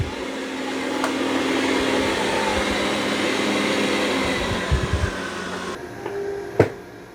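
A Dreame robot vacuum working over carpet makes a steady, fairly loud broadband whir with a few soft bumps. It cuts to quieter background near the end, where one sharp click sounds and no one speaks.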